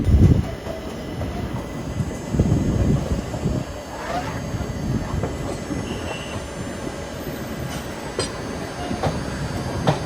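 A passenger train, a Kollam–Kacheguda special, rumbles along steadily with rattling wheels and occasional metallic squeals and clacks, heard from on board.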